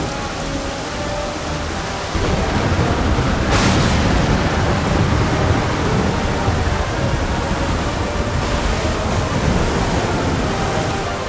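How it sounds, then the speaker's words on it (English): Heavy ocean waves in Final Fantasy XIV Dawntrail, a steady roaring wash of surf and spray that swells louder after a couple of seconds and churns on continuously, with no voices over it. "I have not seen the ocean rage with such fury before or since."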